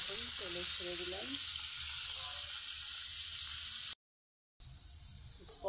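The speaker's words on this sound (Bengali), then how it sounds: "মাছগুলো আমি ভেজে নেব, এখন তেলে ছেড়ে দিলাম।" Fish pieces dropped into hot oil to fry give a loud, steady, hissing sizzle close by. A voice speaks briefly at the start, and the sound cuts out for a moment near the end.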